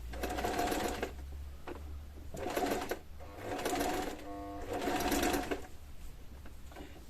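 A sewing machine stitches a zip into scrap fabric in several short, quiet bursts of rapid whirring, with soft pauses between runs.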